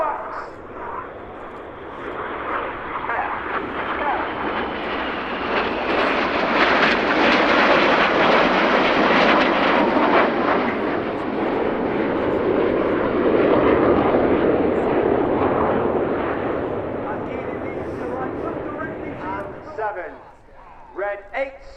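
Red Arrows jets fly the rollbacks manoeuvre at RIAT 2024. A loud, sustained jet roar swells and fades over about twenty seconds, with a commentator talking over it.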